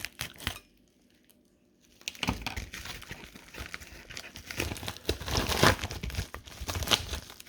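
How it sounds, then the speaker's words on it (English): A package holding opal gemstones is cut and torn open by hand, with a steady close run of crinkling, ripping and rustling packing material after a quiet start. "so I'm going to cut this one open"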